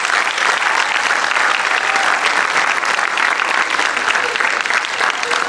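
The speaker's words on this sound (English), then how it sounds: "can I expect a big round of applause when I begin the vote of thanks?" Big round of applause from the audience at a student dance performance event, loud, dense and continuous clapping from a full crowd, steady throughout with no speech over it.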